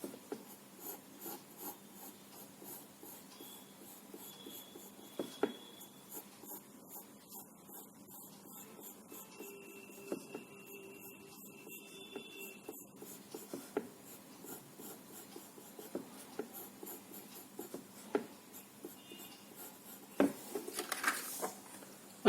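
A pencil scratches faintly across paper while someone draws a stencil for a decorative candle diya, with soft uneven strokes and small taps throughout.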